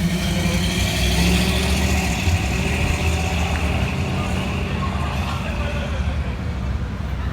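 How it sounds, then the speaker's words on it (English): An L82-engined Corvette rumbles up at a historic main street car show with a loud, continuous low engine drone, while voices carry faintly around it. "Here comes that L82 vet."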